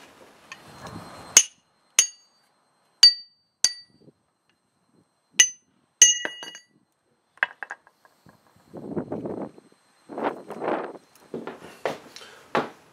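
Several sharp metallic hammer blows ring out one at a time with pauses between, knocking an old axe head off its handle, followed by softer scraping and clunking handling noises.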